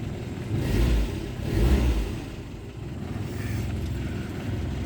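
A Renault 12 TS phase 2 engine revs twice in quick low surges, then settles into a steady, rumbling idle, heard close and alone.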